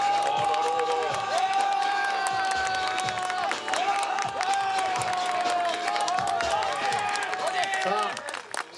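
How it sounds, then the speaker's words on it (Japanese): A crowd at a Sanada Yukimura contest cheers, claps and whoops loudly for a contestant, a dense sustained roar of applause and shouts with some voices mixed in. "さあすごい声援でございますね"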